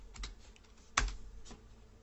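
A few sparse, quiet keystrokes on a computer keyboard, with one louder clack in the middle, close and isolated in a silent room.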